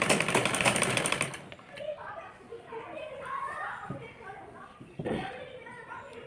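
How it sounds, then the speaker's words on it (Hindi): A sewing machine runs in a steady burst while stitching round the edge of a fabric top, then gives way to someone talking with faint machine noise underneath. "अब इसको हम पूरे पे राउंड राउंड सिलाई लगा लेंगे"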